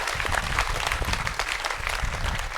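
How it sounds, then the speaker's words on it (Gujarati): Audience applause at a classroom talk on study skills, a dense burst of many hands clapping at once, fairly close and sustained throughout, with no speech over it. "ફરી એકવાર તાળીઓ થઈ જાય."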